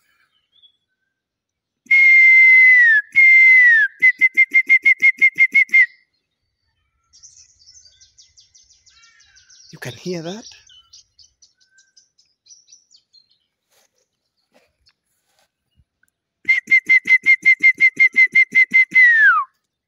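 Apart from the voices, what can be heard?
kiwi bird calls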